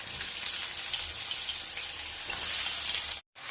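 Pointed gourd and chopped onion frying in hot oil with dried chilli and black cumin, a steady loud hiss and crackle that runs throughout and cuts out abruptly near the end.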